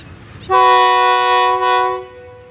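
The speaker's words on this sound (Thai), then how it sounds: "ตอนนี้เรามาดูขบวนรถชานเมืองที่ 356 นะครับ เป็นขบวนรถชานเมืองสายสุพรรณบุรีกรุงเทพนะครับ" A Thai suburban diesel railcar train, service 356 on the Suphan Buri–Bangkok line, sounds a loud sustained horn as it departs Salaya station, one long blast of about a second and a half with a brief dip partway through.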